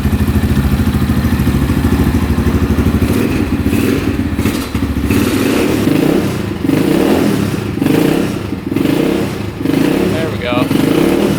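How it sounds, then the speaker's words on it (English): A brand new dirt bike's engine idles loudly and steadily up close, a continuous throbbing rumble with slight rhythmic swells, as someone speaks briefly over it. "Wow, that fired up instantly. No knocking from the engine at all."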